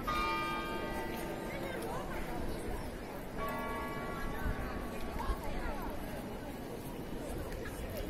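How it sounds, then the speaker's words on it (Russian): Bells of St. Vitus Cathedral in Prague ring over a busy outdoor crowd, the peal moderately distant and mixed with chatter and footsteps throughout. "Вот сейчас слышите колокола,"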